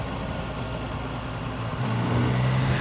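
A Triumph Tiger Sport 800 motorcycle engine runs steadily while riding on twisty roads, a continuous mid-pitched drone that swells slightly louder and deeper near the end, with no talk over it.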